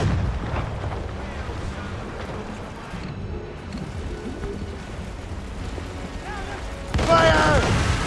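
Heavy ship cannons fire in Assassin's Creed Rogue during a naval battle, with deep rumbling booms under a continuous roar and a sharper, louder blast near the end, while voices shout over the noise.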